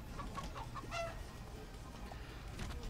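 Cartoonish chicken clucking emote from a player in the Fall Guys video game, a few short clucks in the first second over steady game background noise, moderately faint.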